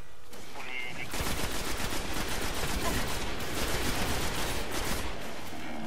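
Rapid pistol fire in the Destiny beta cracks out in a dense, continuous volley of shots, loud and close, after a brief quieter start; no one speaks over it.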